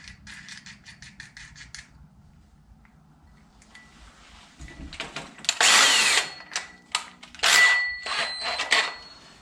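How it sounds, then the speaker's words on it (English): A power drill with a 2-inch hole saw on a mandrel spins up and bites into cardboard with a loud, rising whine and rough scraping bursts, preceded by quieter mechanical clicking. "I'm going to take a 2-inch hole saw, put it on the mandrel here"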